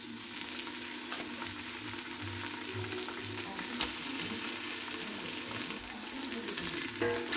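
Tomato paste frying with spices, oil and butter in a pan: a steady, dense sizzle holds for the whole stretch, with occasional stirring scrapes over it and no talking.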